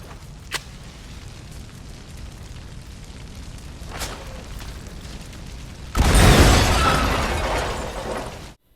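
A dynamite explosion in Red Dead Redemption 2 at a stranger's camp, a few faint clicks and thuds, then a sudden loud broadband blast that rumbles and fades over about two seconds.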